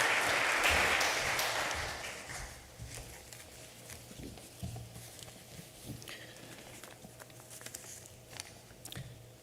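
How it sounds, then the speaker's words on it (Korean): Welcoming applause from a church congregation during a Korean Sunday worship service in Detroit, loud at first and fading over about two seconds into a quiet room with scattered small noises. "나오실 때 우리 한번 격려의 박수로 맞이하겠습니다"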